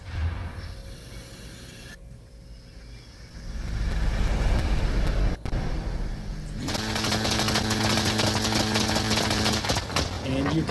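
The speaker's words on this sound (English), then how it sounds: "Can see and hear the anti-lag turbo at work, as well as the two-step launch control." Ford Focus RS rally car in Forza Horizon 5, with an anti-lag turbo and two-step launch control, holds a loud, steady engine roar. It builds and then jumps to a harsher, crackling rasp partway through.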